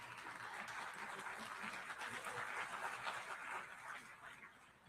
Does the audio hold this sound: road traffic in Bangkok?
no